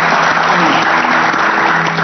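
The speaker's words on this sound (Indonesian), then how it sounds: "Saya minta tepuk tangannya untuk tamu-tamu saya luar biasa." A studio audience at an Indonesian talk show applauds its guests, with loud, sustained clapping and no talk over it.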